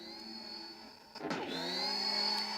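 A steady electronic lightsaber hum with a high whine, broken by a short crackling swoosh as the sound font switches, then the hum rises again and holds, no voices.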